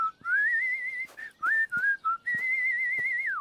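A voice speaking Swedish is followed by someone whistling a wavering tune through pursed lips, clear and close, with a few short breaks between longer sustained notes.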